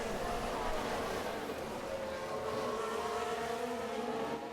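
Formula 1 cars racing around Monaco in F1 Manager 22, with Mick Schumacher's Haas on hard tyres making an overtake: a steady, loud blend of high engine whine with pitch slowly rising and shifting throughout, no voices over it.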